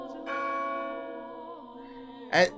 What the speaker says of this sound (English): As the bell's last pealing faded into silence